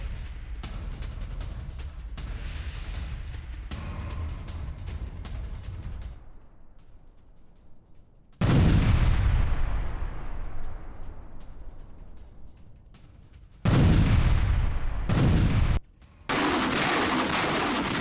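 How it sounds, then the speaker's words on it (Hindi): Uragan multiple-launch rocket artillery fires during the Russia-Ukraine war: loud, close, broadband roaring blasts come in several separate bursts, each fading out, with no talking. "2 उर्गन MLRS से रूस पर भीषण अटैक किया गया।"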